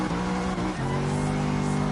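An SLS sports car engine in the racing game Gran Turismo Sport drones steadily at high revs, then its pitch dips and climbs again as it shifts, loud and constant throughout.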